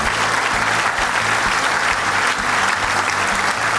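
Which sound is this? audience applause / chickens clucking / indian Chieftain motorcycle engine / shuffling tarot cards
audience applause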